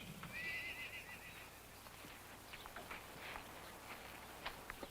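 A string of gentle trail horses at a morning sale, with one clear whinny near the start followed by scattered hoof clip-clops on hard ground, faint and somewhat distant.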